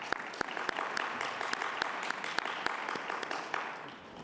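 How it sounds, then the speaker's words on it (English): An audience at an Indigenous business forum claps in sustained applause, with individual sharp claps standing out near the microphone over the dense background of hands. "So let's give them a round of applause there"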